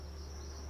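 Crickets on a cricket farm, freshly harvested and being readied as breeding stock, buzz in a dense, steady shrill chorus with no pauses, close and continuous throughout.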